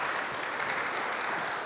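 An audience in a Saint-Michel church applauds, a steady, dense wash of clapping that is loud and continuous throughout, with no talk over it.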